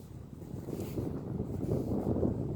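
Outdoor wind buffets the microphone in a low, fluttering rumble that rises and falls over a couple of seconds, with no voices.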